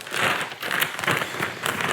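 Crinkly rustling as cabbage is handled in a plastic bag in a kitchen, pulses of close crackling plastic coming and going over about two seconds.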